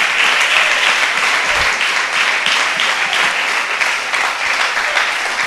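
A church congregation applauds steadily during an evangelical service, a dense, continuous wash of clapping at close range with no talking over it.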